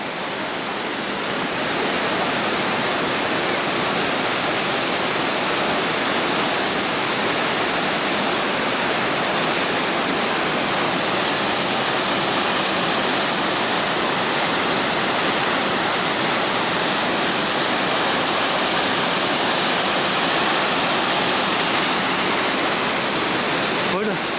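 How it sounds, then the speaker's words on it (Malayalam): A powerful waterfall at Athirappally, Kerala, roars continuously, a dense, unbroken wash of crashing water that fills the whole scene at high volume. "അതാണ് ഭീകരമായ വെള്ളച്ചാട്ടം"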